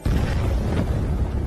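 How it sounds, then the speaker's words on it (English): A huge explosion in an anime bursts at once into a loud, dense low-frequency roar that rumbles steadily without fading for about a second and a half, alone with no voices. "At the rear, what caused that huge explosion?"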